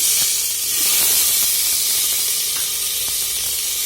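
Tomato pieces dropped into a hot pan give off a steady, bright, hissing sizzle that stays loud and even throughout, with a few faint clinks underneath.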